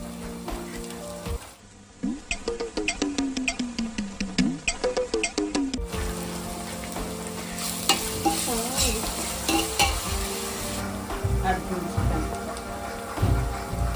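Biryani masala with chilli powder and Kashmiri chilli powder frying in a pot, a loud steady sizzle with repeated scraping stirs close by, while people talk over it.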